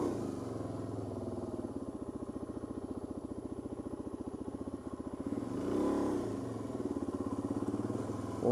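A motorcycle being ridden, its engine a steady close throbbing drone that swells briefly as the throttle opens, with some rattling clatter.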